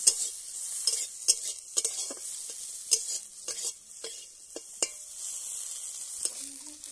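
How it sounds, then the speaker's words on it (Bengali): Eggplant coated in turmeric is stirred in hot oil in a pan. A soft sizzle runs underneath while the spatula makes repeated clacks and scrapes against the metal in an uneven rhythm. "এবার সব কিছু একসঙ্গে ভালো করে তেলের সঙ্গে নেড়ে নিচ্ছি।"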